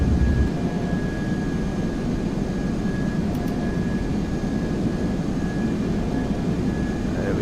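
Airbus A330 jet engines drone steadily in a Prepar3D flight simulator, a constant broadband roar with a faint high whine, heard alone at an even level throughout.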